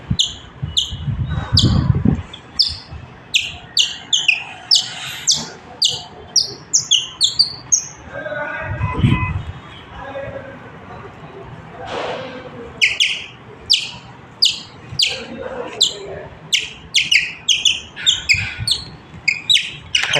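A sparrow gives repeated sharp, bright chirps, loud and close, in quick irregular bursts, with short quieter gaps and a brief low rumble between calls.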